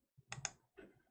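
A couple of quiet, crisp computer mouse clicks, one quick pair followed by a softer single click, in a near-silent room while using a Windows XP virtual machine.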